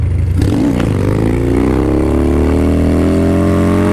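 Harley Dyna Low Rider S motorcycle engine revving hard during a wheelie, loud and close, the exhaust note rising after a quick throttle blip and holding a strong sustained roar.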